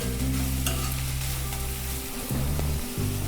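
A spatula stirs a quick school tiffin mixture sizzling in a pan, a continuous loud fry with scraping strokes on top, close and steady, with no voices.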